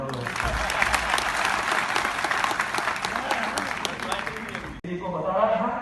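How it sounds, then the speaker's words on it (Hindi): Crowd applause at a Valmiki Prakat Utsav public event, dense and steady for several seconds before cutting off, then a voice speaking over the crowd. "इनके लिए भी ताली बजाओ।"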